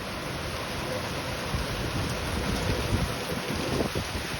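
Strong gusting wind of around 40 miles an hour during an Oklahoma thunderstorm, heard from a back porch as a steady, loud roar of rushing air buffeting the microphone, with no talking.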